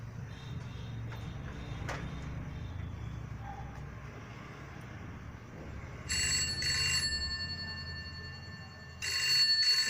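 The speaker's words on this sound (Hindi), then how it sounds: "टेलीफोन की घंटी बजने लगी" An old-style telephone bell rings in two bursts, a sharp metallic trill, heard over a low rumble of distant traffic.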